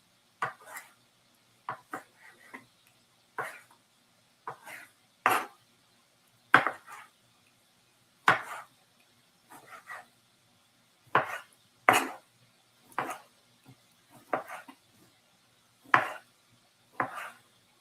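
Knife chopping tomato and cucumber on a cutting board for a tomato, cucumber and feta salad, with sharp separate chops in an uneven rhythm, sometimes paired, close and clear against a quiet background.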